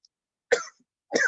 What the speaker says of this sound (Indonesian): ini batuk ini